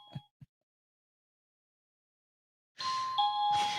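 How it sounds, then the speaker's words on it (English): Small electronic bell device giving a bright chime that rings twice in quick succession near the end, after a couple of soft knocks and a long silence. "I think you want to hear Steve ring that bell just one more time"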